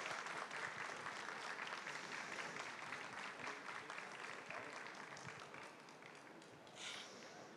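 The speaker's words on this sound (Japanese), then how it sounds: "改めて大きな拍手をお願いいたします。" Spectators at the final of a Japanese coffee brewing competition give sustained applause, a quiet, distant-sounding patter of many hands that tapers off near the end.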